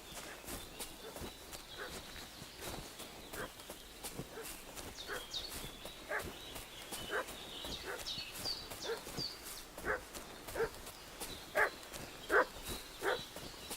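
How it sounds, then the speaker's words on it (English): A dog barks repeatedly at a distance in Kingdom Come: Deliverance 2, in irregular sharp yaps that grow louder toward the end, over soft footsteps and ambient outdoor game sounds. "What's that dog making such a fuss about?"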